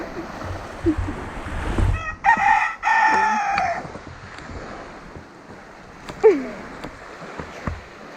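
An aggressive rooster crows loudly and close by on land beside a dinghy, one strong harmonic crow followed by a shorter squawk, with wind noise and scattered clunks around it.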